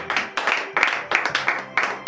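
A congregation applauds and cheers in acclamation right after a morning prayer in a church in Benin, the clapping coming in several loud bursts over a couple of seconds.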